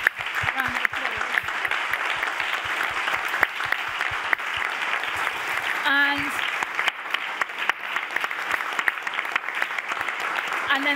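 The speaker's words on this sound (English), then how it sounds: "So I'm going to propose a round of applause." An audience at the Hamburg Science Summit 2024 gives a long round of applause. The clapping is steady and sustained throughout, with a voice briefly audible partway through.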